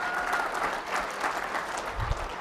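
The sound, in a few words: round of applause for a winner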